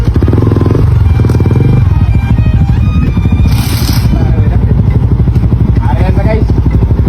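Motorcycle engine revving hard in a workshop, a loud close rapid exhaust pulse that rises and falls, with voices talking over the engine.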